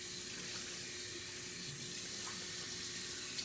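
Warm water runs steadily from a sink tap while a washcloth is wetted, a continuous close hiss of flowing water with no voices and barely any change in level.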